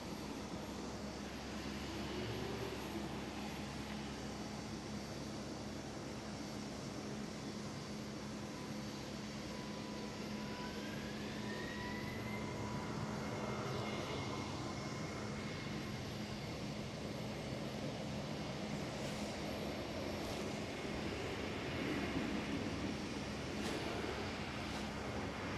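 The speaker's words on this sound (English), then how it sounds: "KLM City Hopper E190 lined up on the runway" A KLM Cityhopper Embraer E190 jet takes off from runway 24 at Amsterdam Schiphol, its engine roar a steady broad rumble heard from a distance, rising and shifting slightly as the aircraft accelerates away. No one talks.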